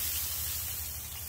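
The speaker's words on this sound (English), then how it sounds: "We'll spray the vegetables a little bit too." Vegetables being sprayed inside a smoker, a short steady hiss of spray over a low rhythmic hum, faint and brief.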